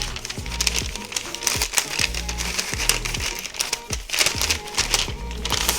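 A small piece of material being folded in half before it is placed over a jar of fire cider, giving close, continuous crinkling and rustling with small crackly bursts.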